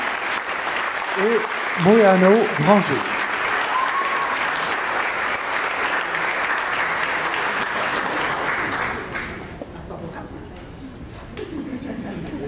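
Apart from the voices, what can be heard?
audience applause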